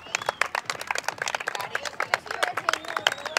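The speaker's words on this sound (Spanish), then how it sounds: "Un aplauso para él." Children applaud their youth football coach Pedro, a sparse, uneven patter of small hands clapping at close range, with faint calls and chatter mixed in for a few seconds.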